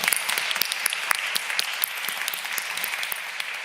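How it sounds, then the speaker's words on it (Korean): A church congregation applauds after a worship song, with loud, dense clapping and sharp individual claps standing out close by throughout, and no voices. "우리 박수 한번 하겠습니다"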